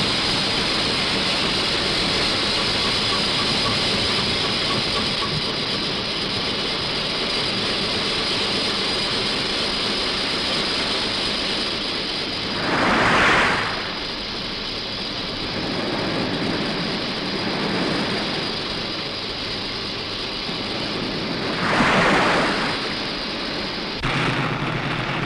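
Casabianca submarine engines running at 290 revolutions, a loud, steady roaring drone with a broad hiss that swells briefly twice, filling the space without pause.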